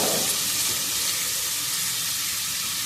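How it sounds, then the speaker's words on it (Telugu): Carrots frying in a pan for carrot halwa, a steady close sizzle with a bright, hissing crackle that holds evenly throughout, no voices over it. "తర్వాత క్యారెట్ వేసుకుందాం. క్యారెట్ ఉడికిపోవాలి"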